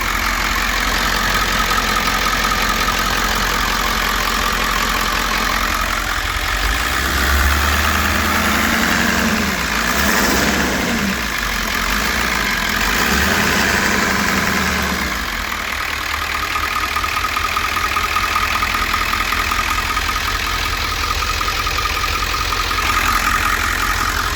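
A 7.3L Powerstroke diesel engine in an ambulance idles steadily, a loud, continuous low rumble with a slight swell midway, heard up close with no talking.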